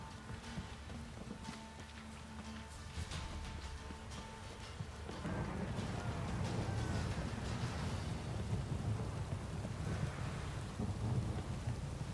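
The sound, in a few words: thunderstorm downpour in the video game The Witcher 3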